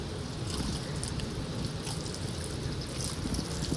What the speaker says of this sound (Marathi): पायपा खालचं पाणी बघा कसं चाललंय.